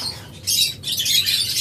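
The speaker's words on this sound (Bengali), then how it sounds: "এরকম হাই কোয়ালিটির ককাটেল পাখি আমাদের কাছ থেকে আপনারা এত কমে পাচ্ছেন" Cockatiels for sale call in a pair, giving bright, sharp chirps that start faint and turn louder and denser partway through, with a low steady hum underneath.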